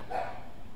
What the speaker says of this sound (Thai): หมาเห่าละ